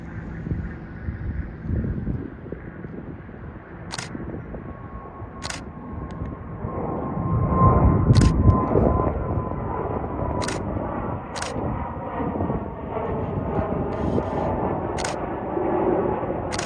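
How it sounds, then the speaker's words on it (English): A Delta Air Lines Airbus A220-300 taking off from San Jose airport, a steady broadband jet roar building and peaking midway then holding, with wind buffeting the microphone and periodic camera shutter clicks. "here she is, Delta A220 taking off"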